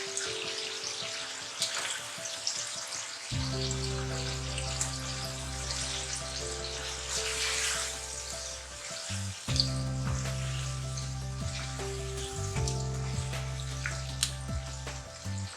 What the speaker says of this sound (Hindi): अब हम इसके अंदर आलू शामिल कर देंगे और आलू को डाल के अच्छी तरह भूनेंगे ताकि वो भी गल जाए।